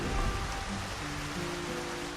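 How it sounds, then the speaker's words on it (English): Steady rain pours over ruins in the video game Xenoblade, a continuous even hiss of falling water with a low rumble beneath, heard alone without voices. "Ruins in the rain."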